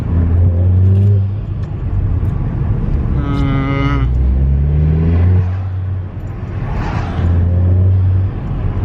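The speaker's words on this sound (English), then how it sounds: "we're gonna see if we can hear any sort of difference with the elbow and muffler delete on" A Volkswagen Golf R engine with an exhaust elbow and muffler delete rumbles at idle and then revs up and back down a few times, loud and close, with a throaty exhaust and some talking underneath.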